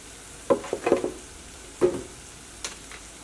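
Turmeric powder frying in an oiled pan while making a papaya curry, heard as a few short scraping stirs and light bursts of frying noise over a quiet background, with no talking.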